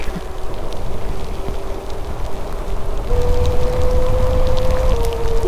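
Heavy rain pours steadily during a ride on a Mokwheel Onyx ST e-bike with a 1300-watt peak mid-drive motor, a dense wash of drops and tyre spray that continues throughout, with a sustained electric motor whine rising partway through.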